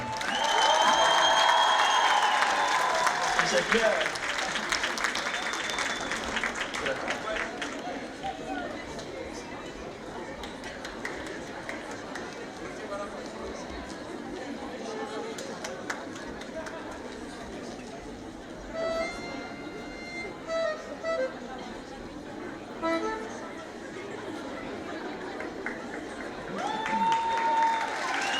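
A concert audience at a Tatar cover band show applauds in a broad, moderately loud wash of clapping, mixed with crowd chatter and occasional voices, with music fading in and out around it.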